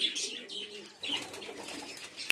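Pigeons coo softly nearby in a quiet loft, with a few soft murmuring calls and light chirps over a hushed background.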